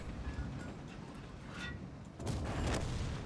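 Video game tank combat with a SPHT tank firing high-explosive rounds at an enemy vehicle, giving a muffled low boom followed by a second heavier rumbling blast, distant and dull with sustained low rumble, no talking.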